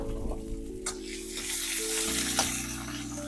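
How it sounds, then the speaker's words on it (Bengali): Chopped onion frying in a pan for a jackfruit curry, a close, steady sizzle with a few light clicks of a utensil, moderately loud over a faint low hum, no one speaking. "এবার পেঁয়াজটাকেও ভালোভাবে ভেজে নেব"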